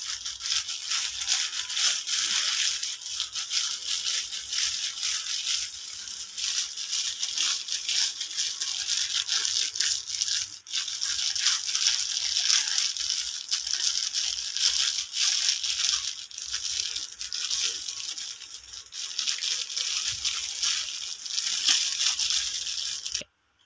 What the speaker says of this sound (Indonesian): jadi ikan nila kita haluskan